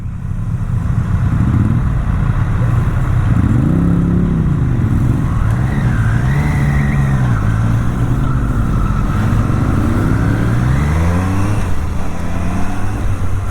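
A Triumph motorcycle at a Triumph riding event pulls away and accelerates hard, the engine note climbing through several gear changes as it roars steadily and fairly close.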